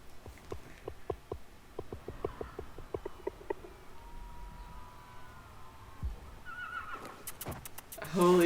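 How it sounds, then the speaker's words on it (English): A horse whinnies in the film Nope, a series of sharp, evenly spaced calls giving way to quieter ambience, then a sudden loud burst of sound at the very end. "The horse Lucky's is still there."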